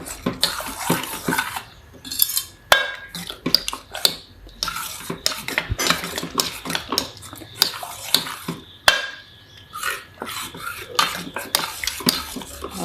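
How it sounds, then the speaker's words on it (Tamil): Cooked tomato dal being mashed with a metal ladle, giving repeated clinking scrapes and soft wet squelches against the pot in an irregular, close-up rhythm with no talking. "நம்ம கரண்டி வச்சு நல்லா மசிச்சு விடணும்"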